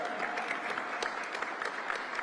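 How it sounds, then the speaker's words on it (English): Applause at a city officials' press event in Philadelphia announcing the Wanamaker Light Show and Dickens Village, steady crowd clapping filling the whole moment at moderate distance, with no talk over it. "Give her a great round of applause."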